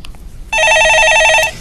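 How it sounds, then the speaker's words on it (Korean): A telephone rings in a broadcast studio with one loud electronic trilling burst of about a second, starting abruptly and cutting off, close and clear over a faint room background. "예, 전화 받아보겠습니다."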